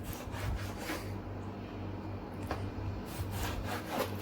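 A knife cuts a thin shark fish into pieces on a board, giving soft repeated rubbing, sawing strokes at close range over a low steady hum, with no voices.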